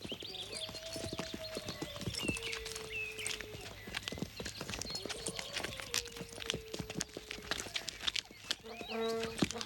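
Hooves clip-clop at a walking pace, several horses close by on hard ground, with scattered snorts and faint voices in the background.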